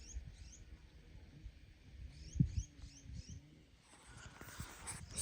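Small forest birds give a few faint, high chirps in a quick cluster, far off in a quiet woodland where leaf litter is being gathered, with a low steady background hum.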